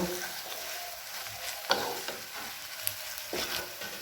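Salt being stirred into a poppy seed mixture in a hot pan, a soft sizzle with a few distinct scraping strokes of the spoon spaced a second or two apart, nearby and unaccompanied by speech.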